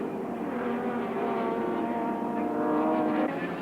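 Touring race cars lapping Sandown in the 1984 Castrol 500, including Jim Richards' black JPS BMW, give a steady, continuous engine drone with layered tones, held at an even level throughout and slightly swelling near the end.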